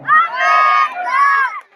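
Crowd at a political rally in the Lunkaransar area shouting and cheering together, a loud sustained chorus of many voices in two long swells.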